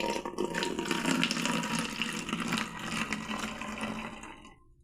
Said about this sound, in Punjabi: ਮੈਂ ਬੋਤਲ ਦੇ ਵਿੱਚ ਪਾਉਣ ਲੱਗੀ ਹਾਂ ਇਸ ਤਰ੍ਹਾਂ